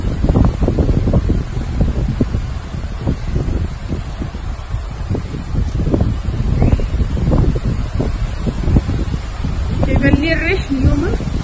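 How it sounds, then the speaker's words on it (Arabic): Steady wind at the beach gusting and buffeting the microphone throughout, a loud continuous rumble with rustling on top. "الريح اليوم"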